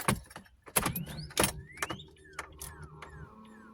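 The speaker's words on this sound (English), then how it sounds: "That's just our CD player making noise." CD player in a 2002 Pontiac Grand Am making mechanical noise inside the car, a string of clicks and knocks followed by short whirring motor sweeps, fairly quiet and close.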